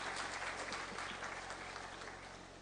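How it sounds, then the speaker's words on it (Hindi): Loud, dense applause from a crowd for scholarship students at a Delhi Government event, a steady wash of many hands clapping throughout, with no speech over it. "एक बार जोरदार तालियां उन सभी स्टूडेंट्स के लिए।"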